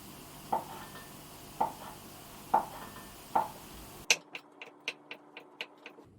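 Knife cutting salami into rounds on a board, four spaced thuds, then a quicker series of six or seven sharper taps.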